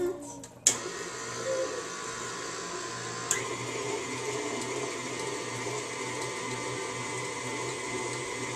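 A steady whirring mixer drones through cookie pie dough for a Toll House cookie pie, with a sharp click as it starts and another knock a few seconds in, then continuous even motor hum.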